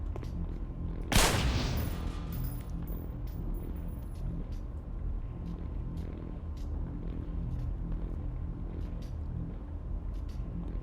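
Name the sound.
flammable gas canister exploding in a video game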